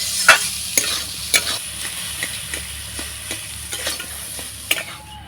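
Spiced potato filling, made without onion, stirred and fried in a pan: a spatula scrapes in sharp, irregular strokes over a soft sizzle, close and clear with no talk.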